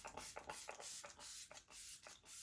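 Makeup setting spray is misted toward the face in a series of about eight quick, soft hissing pumps, close and unaccompanied by talk.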